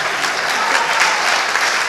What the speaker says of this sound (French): On commence par être applaudi